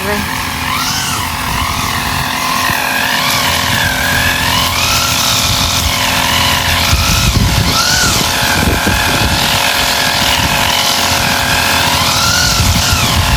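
A gas-powered grass cutter whines steadily while clearing ground beneath coconut trees, its engine pitch rising and falling as the blade works. The motor sits close and loud throughout, with a voice talking over it.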